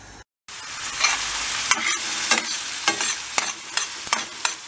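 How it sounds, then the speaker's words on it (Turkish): Chopped onions sautéed in a pan for a minced-meat börek filling, with a steady sizzle and several sharp scraping stirs of a utensil against the pan, close and alone. "Önce soğanlarımızı bir yola sokalım. Birazcık kavuralım."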